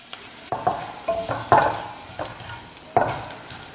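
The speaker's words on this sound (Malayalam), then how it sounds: "ഞാൻ ഇതിലേക്ക് വറ്റൽമുളക് ഇടാണ്." Dried red chillies frying in oil for a sadya-style kichadi tempering, a sizzle broken by several sharp scraping stirs of a spoon in the pan at uneven intervals, without any voices.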